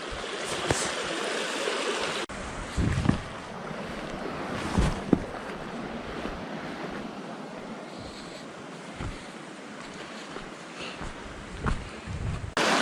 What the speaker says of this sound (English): Water, birds, nature.